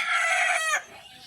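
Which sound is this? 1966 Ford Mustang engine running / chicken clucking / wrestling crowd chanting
chicken clucking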